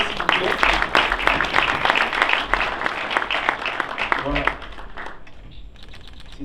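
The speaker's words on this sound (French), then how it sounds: "Applaudissez s'il vous plaît." Applause from an audience at a ceremony welcoming new students and an honorary member, a crisp patter of many hands clapping that gradually thins out, with a brief spoken word over it.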